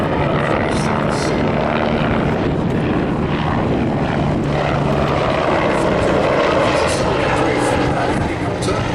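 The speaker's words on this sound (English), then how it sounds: "a very, very excellent utility helicopter" A helicopter flies close by, its rotor thudding rhythmically beneath a steady engine whine, loud and continuous.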